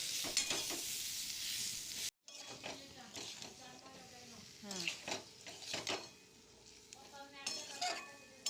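Amla pickle with cane jaggery being stirred in a pan, with intermittent scraping strokes and a soft sizzle, while someone talks over much of it.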